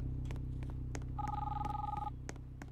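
An electronic telephone in the video game Brookhaven rings with a warbling trill over a steady background hum and scattered clicks, fairly faint.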